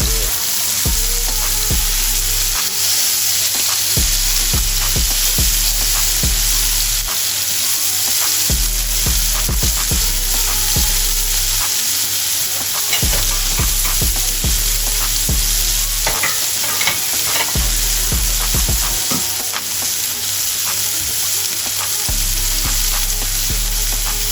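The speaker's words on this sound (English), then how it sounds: "we're just searing the outside off" Prawns searing in a hot pan give a loud, continuous sizzle up close, broken by frequent sharp clicks and scrapes of stirring and a low rumble underneath throughout.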